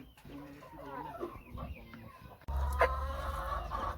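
Hens and a rooster cluck close by in a farm coop, a run of throaty calls followed by a louder, fuller burst of squawking in the second half, with faint background rustle.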